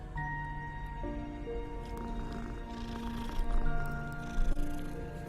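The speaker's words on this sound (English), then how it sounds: "There's a kitty." A cat meows and purrs in Hogwarts Legacy, soft and close, over a steady layer of sustained game music tones, with a couple of louder bumps near the end.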